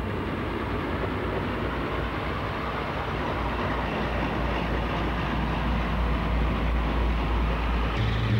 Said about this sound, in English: this is Western Lady, one of the Class 52 diesel hydraulics to survive into preservation